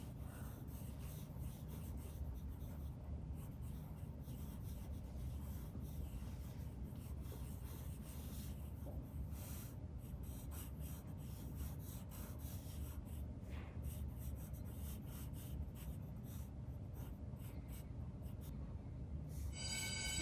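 A pen draws one continuous line on paper while sketching a face, making faint, steady scratching and rubbing that runs unbroken for about twenty seconds with small shifts in pressure.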